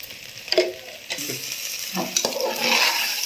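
Coriander and masala powders are stirred into mushroom pulao frying in oil, heard as a close sizzle with a few scraping stirs and light clinks of the spoon. The sizzle grows louder toward the end and nobody talks.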